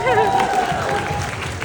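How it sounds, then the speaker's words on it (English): An audience at a film Q&A claps in a steady burst of applause mixed with crowd noise, loud and close, with voices talking over it. "clap for that."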